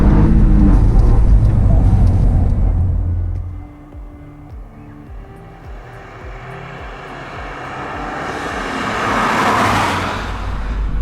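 A Toyota GR Yaris engine rising and falling in revs as the driver blips the throttle on manual downshifts, loud and close at first, then quieter, swelling again toward the end, with a voice heard in the cabin.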